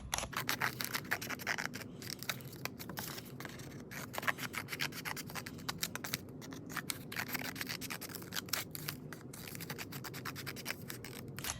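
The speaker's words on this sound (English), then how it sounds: "I'm cutting, cutting, cutting, cutting, and then I stop." Scissors snip steadily through painted paper, a close, continuous run of crisp cuts and scratchy rubbing with short pauses, no talking.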